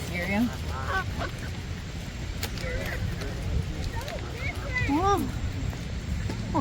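A goose gives several short honks scattered over a constant low background rumble during an evening walk in Chagrin Falls, with people talking nearby.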